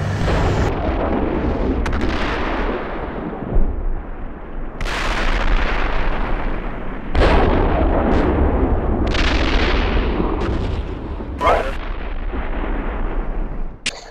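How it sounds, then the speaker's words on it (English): Artillery shells landing in the tank simulator Steel Beasts Pro PE, a loud, continuous roar of rumbling blasts with repeated sharp impacts cutting through over several seconds. "Is that our artillery landing down south?"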